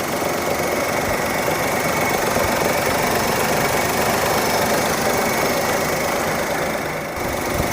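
A 2012 Maruti Wagon R idles steadily nearby, its engine giving a loud, even rumble with a faint knocking texture and no break.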